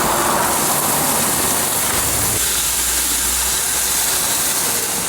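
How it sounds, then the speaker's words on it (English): Chicken souvlaki on a gas grill: a steady, loud broadband sizzle that persists throughout, with a brief shift partway as the skewers are flipped. "Let's flip our souvlaki again."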